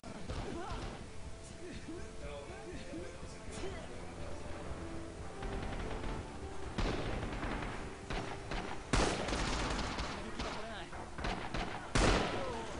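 Gunfire in the multiplayer shooter Rising Storm: a steady din of battle with scattered shots and several sharper, louder bursts of fire, some near and some distant, under faint background voices.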